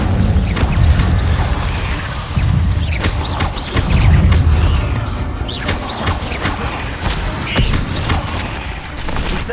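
Fire spell Incendio cast in Hogwarts Legacy during a fight with spiders, loud bursts and crashing booms repeating over several seconds amid dense combat noise.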